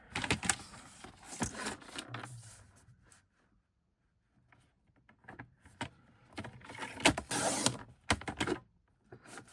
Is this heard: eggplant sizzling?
no